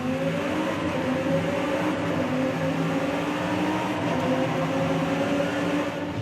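A car engine in Forza Horizon 5, heard from the cockpit view while driving through a tunnel, sounds as a steady, muffled low drone with a faint tonal hum, unchanging and continuous with no talk.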